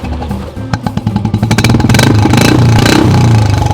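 A Royal Enfield Bullet with an aftermarket silencer exhaust thumps up close, starting with a steady idle beat and then revving into a loud, sustained roar with fast regular pulses. No one speaks.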